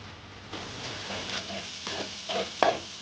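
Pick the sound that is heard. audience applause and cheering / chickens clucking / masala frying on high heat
masala frying on high heat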